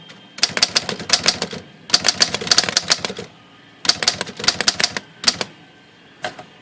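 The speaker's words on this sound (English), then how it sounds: "I do like these Underwoods because they got such a smooth touch." A freshly serviced Underwood typewriter being typed on, with quick bursts of crisp, close key strikes separated by short pauses and a final lone keystroke.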